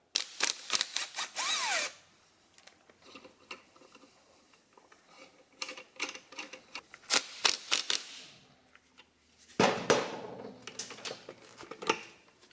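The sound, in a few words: power tool removing flywheel on Yamaha QT50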